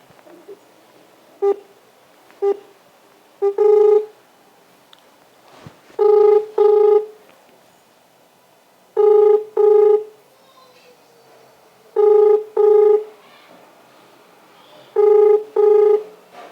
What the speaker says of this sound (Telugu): ఒకసారి కాల్ చేద్దాం ఆయనకి